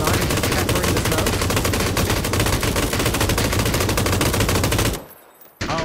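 An M249 light machine gun in PUBG fires a long, unbroken burst of rapid shots, loud and close. The fire cuts out near the end, goes briefly quiet, then resumes.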